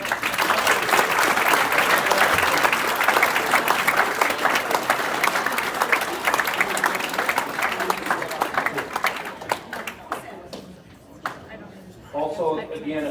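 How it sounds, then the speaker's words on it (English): Audience applause for volunteers at a baseball Hall of Fame induction ceremony, a dense, steady wash of many clapping hands that runs loud for about ten seconds, then thins and fades, with a voice starting up near the end. "I think we owe you an applause"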